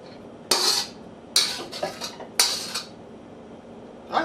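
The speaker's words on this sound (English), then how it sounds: "you can just dump it right on there" Stir-fried food dumped from a wok onto a plate in a home kitchen: three sharp metallic scrapes and clanks of pan and utensil against the plate, spaced about a second apart, close and moderately loud with no talk.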